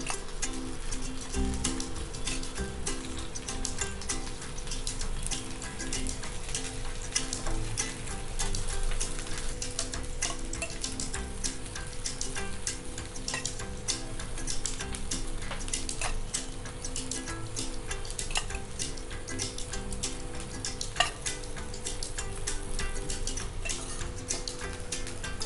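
Potato poha tikkis fry gently in a thin layer of oil on a pan over low heat, giving a steady, even crackle and fine ticking sizzle that continues unbroken throughout.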